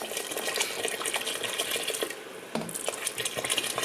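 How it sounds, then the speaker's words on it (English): Hot water being poured from a stovetop pot into a seafood boil pot, a continuous splashing and bubbling rush of liquid that briefly dips midway before resuming, close and fairly loud with no talking. "So I've got some more hot water on the stove here boiling, and I'm going to add just a little more water to this."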